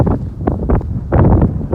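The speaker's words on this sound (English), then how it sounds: "that wind is brutal. I hope this camera ain't picking up that wind" Strong gusts of wind buffet a camera microphone outdoors at a road grading and resurfacing site, a loud, continuous rumbling roar with surging pulses and no voices.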